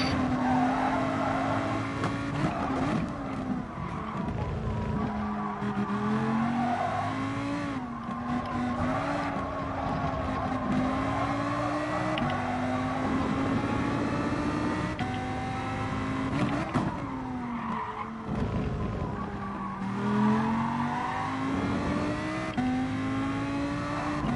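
A race car in the iRacing sim at Interlagos drones through the gears, the engine pitch climbing and dropping with each shift and corner, occasional tire scrubbing, heard close and continuous.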